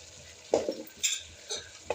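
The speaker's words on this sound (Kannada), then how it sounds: "ಇವಾಗ ರುಬ್ಬಿದ ಮಸಾಲೆ ಹಾಕ್ಕೋತಾ ಇದ್ದೀನಿ" Ground masala paste for a vegetable gravy fries in a pan, a low sizzle broken by four stirring scrapes and clinks about half a second apart, close and alone.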